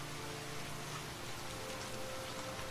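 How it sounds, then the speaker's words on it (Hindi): Heavy rain falls in a dense, constant hiss, loud and unbroken throughout, with no voices. "बहुत तेज़ बारिश हो रही है और साथ में ठंडी हवाएं भी चल रही हैं"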